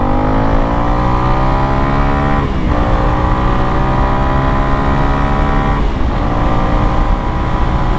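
Honda CRF 300L fitted with a MotoX exhaust, airbox mod and ECU tune, cruising in third gear: a loud, close, steady engine drone whose pitch climbs gradually, briefly dipping twice at gear changes, with no talking.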